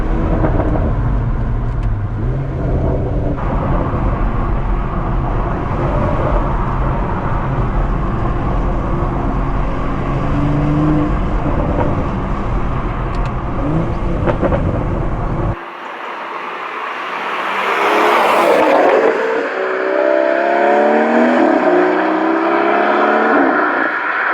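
A BMW M140i with its resonator deleted and the stock back box in place gives a loud, close exhaust drone that holds for a long stretch, cuts off sharply, then swells again into a rising rev.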